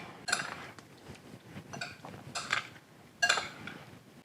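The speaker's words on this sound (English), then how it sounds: "let's give that a stir" Ceviche stirred in a bowl with black pepper, utensil scraping and clinking against the dish in a few short bright bursts, close and fairly quiet.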